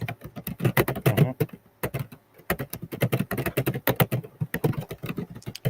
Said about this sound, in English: That's some mad typing going on.